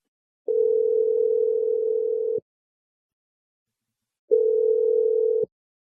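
A telephone call rings out on the line: two long, steady, even-pitched ringing tones, the second slightly shorter, separated by a few seconds of silence, clear and close with no voices.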